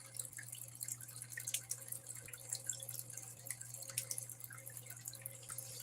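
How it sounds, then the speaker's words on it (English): Water running through a gold prospecting sluice, a faint continuous trickle with small irregular drips and splashes under a low steady hum. "I'll just run it through the sluice."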